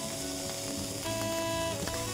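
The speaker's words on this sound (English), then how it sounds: "Sizzling away, smells good already." Chicken sizzles in a Zepter pan, a continuous, moderately quiet frying hiss under a bed of background music, steady throughout with no speech.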